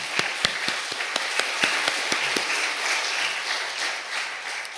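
Applause at a church gathering that opens with separate sharp claps close by, then blends into a thinner spread of clapping that fades toward the end.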